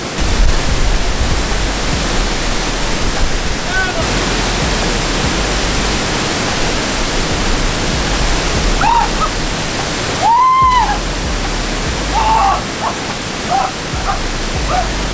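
A natural waterfall used as an outdoor shower roars loud and close in a steady broadband rush, with a few brief squeaky voice sounds or whistles cutting through near the middle and end.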